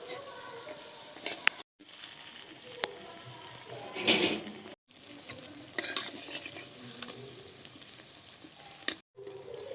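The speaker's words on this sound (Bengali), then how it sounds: "যে পিঠেগুলো আমি ভাজতে দিয়েছিলাম এদিকে ভাজা হচ্ছিল" Pitha cakes fry in oil with a soft continuous sizzle, broken by stirring and clinks of a utensil against the pan, quiet and close.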